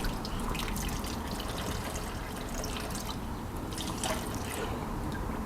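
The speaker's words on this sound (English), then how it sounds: "Now, run it under the water and you'll see it," A pike fly is held under a running tap, giving a steady, fairly loud rush and trickle of water that continues without a break.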